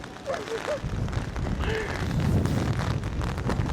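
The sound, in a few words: very strong wind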